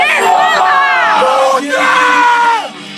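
A crowd at a police competition, held at a museum night event in Grunwald, roars and yells in loud, sustained cheers with long rising and falling shouted voices, briefly dipping before surging again.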